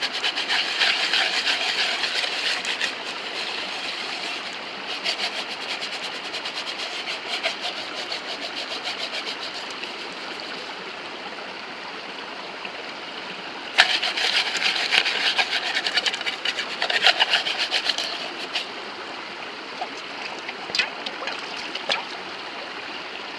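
Coarse gravel scraped around a cooking pot outdoors, giving a steady gritty rubbing and grinding with short pauses, loudest in a burst near the middle, with no voices.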